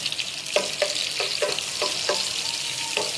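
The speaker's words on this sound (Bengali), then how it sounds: "হালকা করে একটু ভেজে নেব।" Chopped onion and dried chili fry in hot oil, the crackling sizzle broken by a run of quick, even stirring strokes, up close with no voices.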